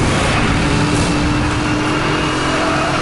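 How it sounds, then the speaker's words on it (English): Steady racing-car engine roar and revving from Need for Speed Hot Pursuit Remastered, cars colliding amid the dense, loud continuous engine noise, with no distinct impact thuds standing out. "See the way the cars hit each other in this game"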